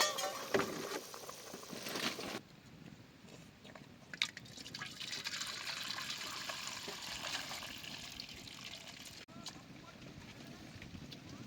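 Water being poured off a pot of boiled eggs, a steady splashing trickle that runs loud for a couple of seconds and then settles into a softer continuous pour and drip, with a brief clatter partway through.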